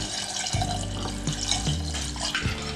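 Two cups of water pour into a pot of sweet corn soup with a steady, close splashing gush and a few heavier sloshes, alone without talk.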